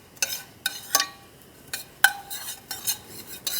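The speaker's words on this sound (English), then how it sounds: "I'm just gonna toss these on a low heat, just until they turn brown and crispy" Panko breadcrumbs tossed in a pan over low heat: a series of sharp scraping and clinking strokes from a utensil against the pan, irregular and close, with a faint dry sizzle between them.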